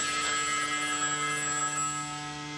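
A telephone bell rings steadily with sustained tonal lines through the moment, fairly quiet and alone, no voices present.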